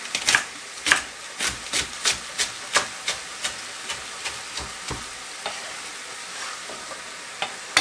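Pak choi stirring and frying in a pot for a Jamaican salt fish dish, with a steady sizzle and regular scraping strokes of the spoon roughly every third of a second, close and clear with no talking.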